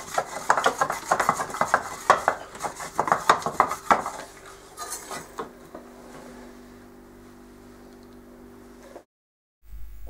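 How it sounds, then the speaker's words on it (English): Salt cod being stirred in its sauce to make Basque bacalao al pil-pil, with dense clattering and scraping of a pan for about four seconds, then a quieter steady hum before it cuts off. "the chef referred to peel-peel, which is the sound that the cod makes when it's being prepared"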